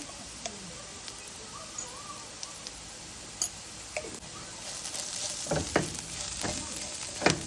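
Carrot egg bhurji seasoned with chili powder, coriander powder and cumin powder fries on a low flame in a pan. It sizzles softly while a utensil stirs and scrapes, and the scraping grows busier and louder toward the end.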